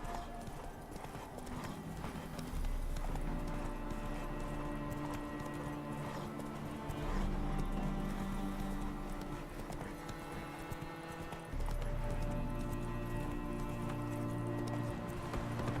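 Hoofbeats of a galloping horse in The Witcher 3: Wild Hunt video game, rapid rhythmic clip-clop continuing throughout, steady and moderately loud alongside game sounds.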